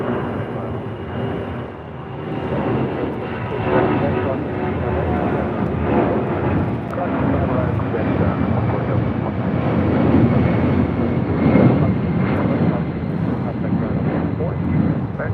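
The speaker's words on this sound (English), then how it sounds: "8928 taking off to San Antonio on a 757-200." A Boeing 757-200 sports charter jet takes off from LAX bound for San Antonio, a loud, sustained roar that swells and holds across the stretch, mixed with wind buffeting the microphone.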